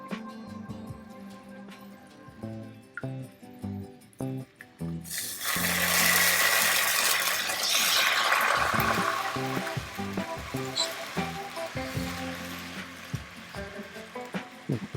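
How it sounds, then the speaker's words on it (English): About a quarter cup of water is poured into a pan of sauce, giving a few seconds of splashing and sizzling after light clinks and knocks, then quieter bubbling with scattered utensil taps. "I will add a little bit of water to this just to help get the remaining sauce out of there"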